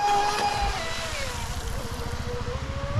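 A Sonicwake 36-inch RC boat races fast along the shore, its high electric motor whine loud and steady and dropping slightly in pitch as it passes, with water rushing underneath.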